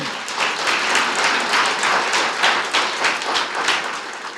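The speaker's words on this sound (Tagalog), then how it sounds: "Isang malakas sa palakpak para kay Lord." An audience applauds together in a loud, dense, sustained burst of clapping at a church Bible teaching event, with no voices over it.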